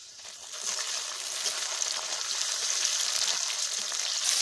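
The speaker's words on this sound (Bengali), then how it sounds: "এখন দিয়ে দিচ্ছি পেঁয়াজ কুচি আমার কাঁচা লঙ্কা ভেজে নিলাম এখন এর মধ্যে টমেটো কুচি দিয়ে দিচ্ছি" Chopped tomatoes drop into onions and green chillies frying in a pan, and a bright sizzle swells and holds steady at moderate volume, close by, with no voices.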